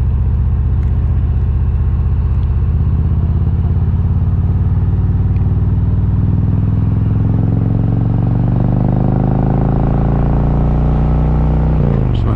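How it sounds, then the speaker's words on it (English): A 2019 Harley-Davidson Road King Special with Whiplash Speed Co parts, loud exhaust droning steadily while riding on the road, revs gradually climbing and then dropping near the end, with wind rush around the helmet. "Just want to see if I can hear the exhaust sound through my helmet here."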